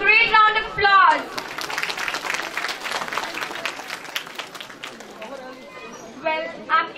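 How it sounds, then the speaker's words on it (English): Audience applause after a kindergarten class performance at a school annual day, a few seconds of lively clapping from a crowd following a speaker's voice, with the speaker resuming as it fades. "Please give them a great round of applause."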